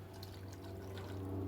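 Canned mixed beans are tipped undrained, with their liquid, straight into a campfire stew, giving a brief, faint wet pour and slosh that lasts only a moment.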